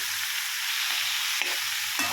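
Mixed vegetable pieces crackle and sizzle loudly in hot oil tempering for Andhra buttermilk curry (majjiga pulusu) while a spoon scrapes and stirs through them.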